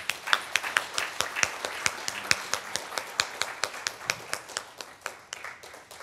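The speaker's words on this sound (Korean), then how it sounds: "여러분 큰 박수로 축하해 주시기 바랍니다" Congregation clapping at a Korean church's Wednesday evening service, sparse individual claps in an uneven rhythm with no sustained roar, fairly close and moderately loud throughout.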